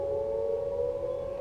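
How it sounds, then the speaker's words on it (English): A tornado warning siren being tested at noon holds one steady, droning tone throughout, carrying across open air. "They're testing the tornado sirens."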